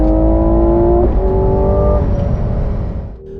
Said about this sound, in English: It's only at max revs that you hear the 12-cylinder symphony in all its glory.